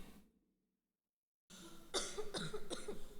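A few sharp coughs in quick succession, close and fairly loud, following a brief stretch of silence.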